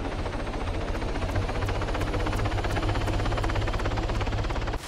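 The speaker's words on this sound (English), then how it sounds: "Tristan, God do you even know how to fly a helicopter in this game" Video game helicopter with its rotor beating in a steady, rapid thump over a continuous engine whine, loud and close throughout, no talking.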